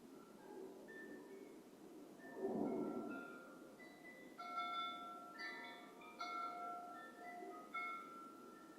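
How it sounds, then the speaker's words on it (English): Wind chimes ringing softly in a quiet room, scattered bright metallic tones overlapping and lingering, faint and distant, with a low muffled thump partway through. "Maybe you hear my wind chimes."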